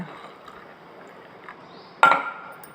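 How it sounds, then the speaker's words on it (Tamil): Coriander juice pours into a glass in a short splashy burst near the end, preceded by quiet light handling sounds and faint background noise. "பிறகு கிளாஸில் ஊற்றிக்கோங்க."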